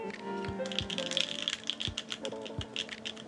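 Clicky keystrokes on a Phantom 65 mechanical keyboard fitted with Queen switches, a steady close-up patter of taps with a few heavier thocks, while a person talks over the typing.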